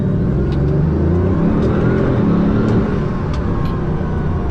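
A Bugatti Veyron pulls away in first gear with a steady, strong engine drone and rising rev, heard from inside the cabin without talk.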